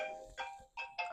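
A phone ringtone chirps in three short bursts, faint and close. It repeats quickly in an otherwise quiet room.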